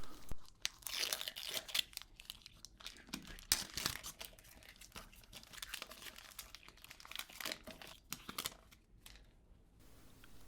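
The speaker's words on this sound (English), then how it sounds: "They put paper again on the bra that you have to rip off here." Protective paper is ripped and crinkled off the packaging of AirPods Max headphones, with close, busy crumpling, tearing and crunching bursts for about ten seconds.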